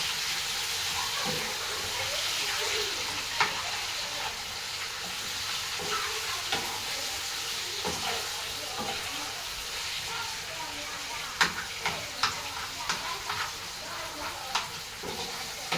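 Alexandrian-style liver fries in a hot pan with a loud, steady sizzle, broken by sharp sputtering pops that grow more frequent toward the end.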